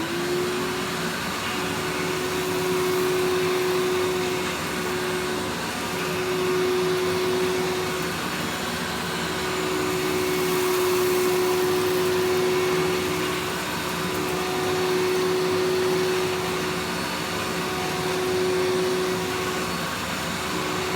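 A Samsung 15-inch wide upright vacuum cleaner with a dirt sensor runs steadily across a floor, a loud continuous motor whine with a droning tone and airy suction rush that swells slightly as it is pushed back and forth, with no talking.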